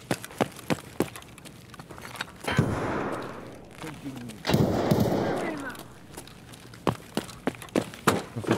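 An AK rifle fires in Escape from Tarkov: sharp single gunshots crack out near and far in irregular bursts, with two longer roaring volleys echoing in the middle.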